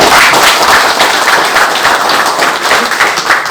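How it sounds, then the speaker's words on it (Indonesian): A crowd claps loudly and steadily for a community police officer at a city meeting, a continuous dense applause lasting a few seconds. "tepuk tangan untuk Babin Kamtip Mas dulu"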